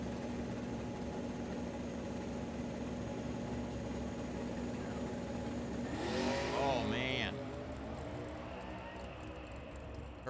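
Race cars at the Firebird track, their engines rumbling steadily under crowd and trackside talk, with a louder surge of revving around the middle before settling back to a constant drone.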